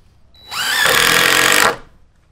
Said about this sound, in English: Now get the screws to screw it in.